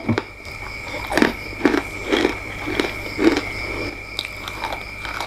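Crispy fried shiitake mushroom being bitten and chewed up close, a series of sharp crunches repeating roughly every half second, loud and dry with no talking.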